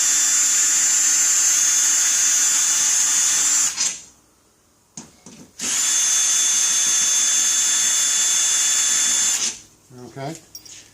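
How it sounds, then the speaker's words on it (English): A power drill backs out two screws near a ladder, each a loud steady high-pitched whir of several seconds with a short pause and a few soft handling clicks between them and at the end. "Remove these 2 screws."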